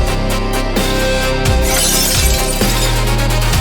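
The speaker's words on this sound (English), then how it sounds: "Pieces of glass are flying everywhere." Glass shatters loudly with a sustained, crashing burst, and pieces keep breaking and scattering throughout.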